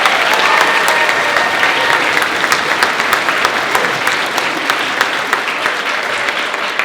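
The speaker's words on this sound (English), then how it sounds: "So how about a quick round of applause for our 8th graders?" Audience at a middle school orchestra concert applauding the 8th graders, loud sustained clapping from a full room, even and continuous throughout with scattered sharper claps standing out.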